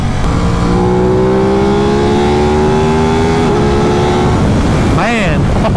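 A 2021 Aprilia RS 660 sport motorcycle at wide open throttle gives a loud, steady engine note that climbs in pitch for several seconds, dips briefly, then rises again before a final quick rev near the end.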